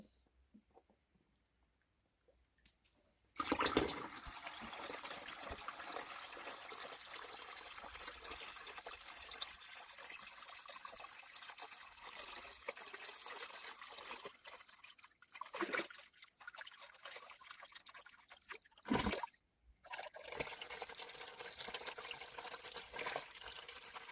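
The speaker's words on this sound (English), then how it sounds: "So I'm going to get another water change done now." Water poured during an aquarium water change in a low-tech Walstad tank, a soft trickling and splashing stream that starts after a few quiet seconds and runs on with brief pauses, faint and close.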